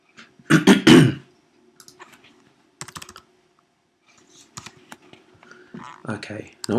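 Scattered clicky keystrokes in short bursts, fairly close, with a brief stretch of speech near the start.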